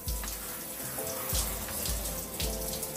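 Warm water from a shower or tap runs steadily over type 4 heat-trained afro hair during a wash, a continuous close splashing rush with soft uneven spatters and no talking.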